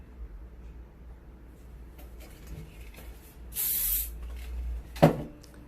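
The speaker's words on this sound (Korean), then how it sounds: "윤기나게 감기 위해서는 스프레이가 조금 필요하겠죠." A short burst of hair spray hisses from a can during an updo hair styling session, a sharp airy spray lasting under a second, followed by a brief clack; quiet room tone surrounds it.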